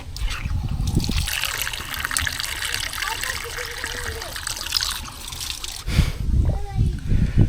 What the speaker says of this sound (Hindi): रास्ते में नल दिख गई थी तो ये सोचा कि क्यों ना पानी पी लो